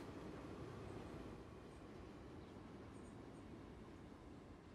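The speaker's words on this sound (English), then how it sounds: "Trains pulled in." A train rolls into a station in the Transport Fever 2 game, a quiet steady rumble of wheels on rails with a few faint high squeals, continuous and distant-sounding with no talk.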